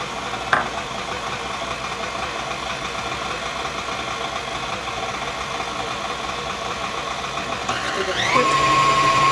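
An electric mixer runs on low, stirring poppy seeds into lemon poppyseed muffin batter: a steady mechanical whir across the whole stretch, with a brief click near the start and a slight rise in pitch and loudness at the end.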